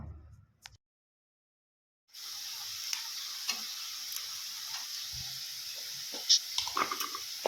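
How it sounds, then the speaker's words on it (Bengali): Greens fried with garlic and green chili in a pan, a steady close sizzle that starts abruptly after a short quiet gap and continues with stirring scrapes and small pops, without speech. "আমি রসুন দিয়ে কাঁচা লঙ্কা দিয়ে ভেতর শাকটা ভাজা করে নিচ্ছি"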